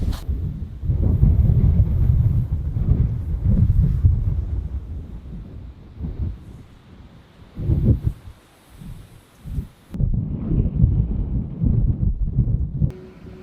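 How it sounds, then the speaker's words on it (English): Strong wind of about 25 mph roars and buffets against the microphone in heavy gusts, easing briefly before surging again, with no voices. "It's like 25-mile-an-hour winds."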